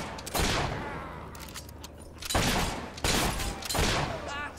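Bursts of gunfire in the video game Fable III, several loud broadband volleys separated by short lulls, with game ambience and faint voices underneath.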